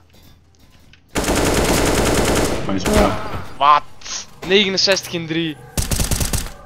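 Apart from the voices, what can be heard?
gunfire in a video game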